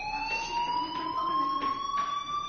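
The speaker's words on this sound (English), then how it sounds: "Do you hear that fire alarm?" A fire alarm in the Life is Strange video game sounds as a continuous, loud, shrill electronic tone that slowly rises in pitch, steady and unbroken throughout, with faint background noise beneath.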